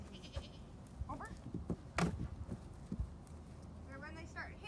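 A horse's hooves clip-clop on the ground as it is led in hand toward and over a log jump, a run of uneven thuds at moderate distance beneath outdoor background noise and occasional distant animal bleats.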